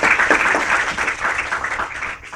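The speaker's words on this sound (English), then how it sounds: "Can we have claps?" A room full of people claps together in steady, dense applause lasting a couple of seconds, loud and continuous with slight fading at the end.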